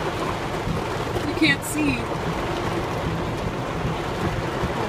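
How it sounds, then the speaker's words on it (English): Heavy storm rain pounds a car pulled over at the roadside near Shediac, making a steady, dense, loud roar throughout, with a brief voice speaking over it. "Everyone has pulled over the side of the road because the rain is so crazy."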